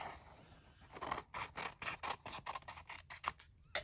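Scissors snip through a double-sided adhesive sheet, a quiet run of about a dozen close, crisp cuts in an irregular rhythm with no talk.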